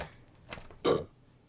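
A single short, throaty burp sounds close up after a brief softer noise, then fades into quiet.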